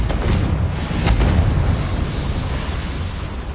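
A Confringo fire spell exploding in a video game, one booming burst that rolls out into a heavy, sustained rumble, loud and close, with no voices.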